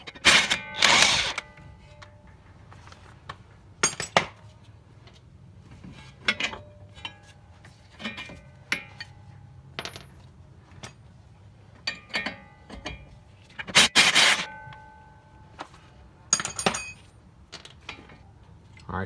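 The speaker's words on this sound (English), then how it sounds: "next we'll go ahead and get our 2 strut, the knuckle bolts, taken out of here, 22mm." Metallic clanks and ratcheting bursts from wrench work removing 22mm strut knuckle bolts on a Toyota Camry, irregular and close, with short rattling clusters and quiet gaps between.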